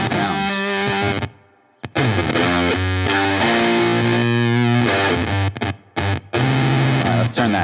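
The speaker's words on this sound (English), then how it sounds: "when you roll back your guitar's volume knob, it starts to starve the pedal for even more glitchy, synth-like" Electric guitar through a noise-style effects pedal with the guitar's volume knob rolled back, giving glitchy, synth-like stuttering tones with abrupt cutouts and dropouts, loud and continuous with no talking.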